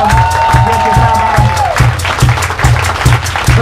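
A street audience applauds a drummer at an outdoor performance in Stara Praga, Warsaw, dense clapping under a lingering sung or whistled tone and rhythmic low drum-like beats, loud and continuous throughout.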